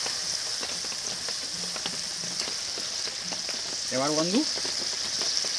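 Tomato and coriander leaves sizzle steadily in a pan for rui fish kalia, a constant bright hiss with a short stretch of speech over it.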